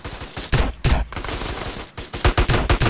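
Rapid bursts of combat shotgun fire in GTA San Andreas, loud and close, with several sharp blasts clustered near the start and a quick run of shots toward the end.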